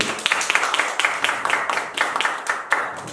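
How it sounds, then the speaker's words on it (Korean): A small audience at a year-end party claps briefly, a few scattered, distinct claps close by rather than a full ovation. "박수 한번 주세요, 여러분"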